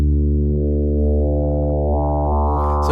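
A Serum 2 synth tone run through the phase distortion warp mode: one sustained, loud, evenly held note with rich stacked harmonics that brighten and grow buzzier toward the end, playing alone.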